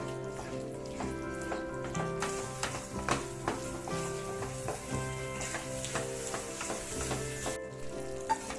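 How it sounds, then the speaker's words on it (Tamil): Cashews sizzling and crackling in hot fat in a pan while being stirred for bread halwa, a steady close frying hiss with scraping stir strokes and soft clinks throughout. "முந்திரி பொரிச்சு கொட்டதுக்காக கொஞ்ச நேரம் கிளறி விட்டுக்குங்க"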